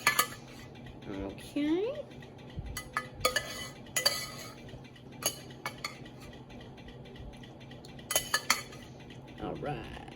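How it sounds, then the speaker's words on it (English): A spoon scoops a cauliflower ziti mixture into a baking dish, giving repeated sharp clinks and scrapes of metal on the dish in irregular bursts, up close, with a voice briefly speaking. "All right, so we're going to spoon this all in."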